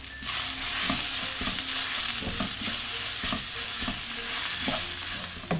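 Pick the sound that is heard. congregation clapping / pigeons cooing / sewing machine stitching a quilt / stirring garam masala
stirring garam masala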